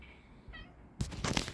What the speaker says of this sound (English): Who's meowing at me? I heard you meowing at me this morning.